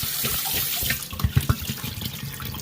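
Tap water runs steadily into a sink while a glass bottle is rinsed out for homemade soy milk, with a few hollow sloshing knocks as the bottle is swirled, close and alone.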